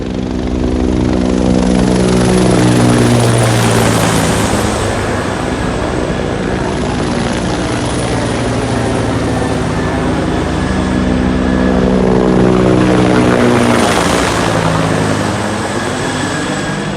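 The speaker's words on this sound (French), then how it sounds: "Des hélicoptères militaires." Loud, steady rotor and engine roar of low-flying military helicopters on manoeuvres over a campground in Sainte-Agathe, swelling and fading as they pass close overhead, with no voices.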